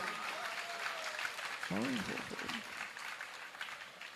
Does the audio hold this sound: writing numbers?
no